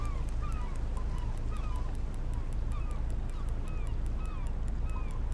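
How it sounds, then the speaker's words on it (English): Seagulls in the fishing game Fishing Planet call out at a nighttime trolling spot, giving short repeated squawks at a steady rhythm over a constant low hum of water and boat. "you hear the seagulls"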